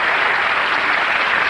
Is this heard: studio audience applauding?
yes